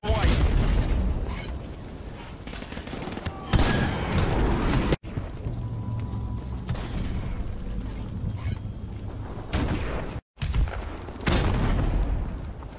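RPG-7 rockets strike and explode one after another in a kill compilation. The heavy, loud booms have abrupt cuts between them, and voices and other battle noise mix in.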